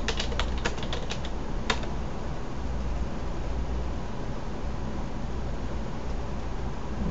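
Rapid bursts of keystrokes on a computer keyboard as search commands are entered, close and crisp over a steady background hiss, with no talking.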